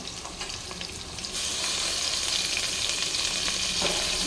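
Green chilies and coriander sizzle steadily in hot oil for plain kushka, a dense frying hiss that jumps louder after the first second and holds with faint stirring clicks, no voices.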